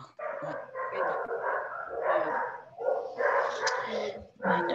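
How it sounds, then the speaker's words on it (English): Several dogs barking and yipping in a continuous, overlapping chorus, fairly loud and near, broken by brief pauses, with possible voices faintly underneath. "my dogs are going"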